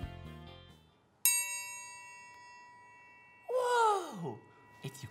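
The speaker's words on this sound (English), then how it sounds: "This triangle is really cool because it makes a really pretty ding sound." A metal triangle rings out with a single bright strike that sustains and slowly fades, preceded by quiet musical tones and followed by a short voiced exclamation.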